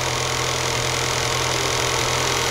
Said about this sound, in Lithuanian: Tai čia šalto variklio darbas.